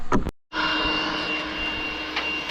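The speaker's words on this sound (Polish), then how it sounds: "Tam jakiś dron lata." A drone flies over a roofing job where metal modular tile sheets are being laid, heard as a steady, fairly loud engine-like drone that holds continuously after a brief silence.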